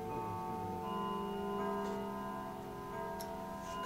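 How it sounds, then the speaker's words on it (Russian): A clock strikes with sustained, ringing metallic tones that hum steadily and layer over one another, and faint clicks come near the end, with no talking. "Часы бьют."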